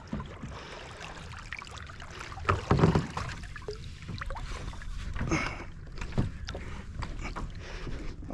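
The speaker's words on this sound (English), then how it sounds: "But now's the challenge, getting back into my kayak." A person climbs back into a kayak from the water off the Florida Gulf Coast, with scattered splashes, sloshing and hull thumps, one heavier burst midway, against light wind.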